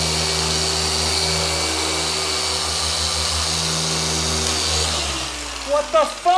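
A car polisher fitted with an Americana Global foam pad whirs steadily and loudly for about five seconds, then winds down as a voice breaks in near the end.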